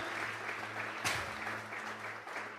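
Church congregation clapping during a Sunday morning service, a dense, steady wash of applause with a brief louder burst near the middle and faint voices mixed in.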